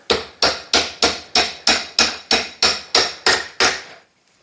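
A bearing driven in with a deep well socket on a jogger shaft repair, eleven sharp, evenly spaced metallic hammer blows, loud and close, ending in silence.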